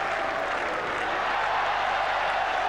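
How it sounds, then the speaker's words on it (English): Cricket crowd at an England v Australia Test match at Old Trafford in 1981, a steady wash of distant shouting and cheering from the stands. "And still the crowd yelling 4"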